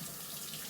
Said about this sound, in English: This is hot, so run a little cold water under it.